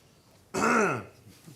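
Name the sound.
cough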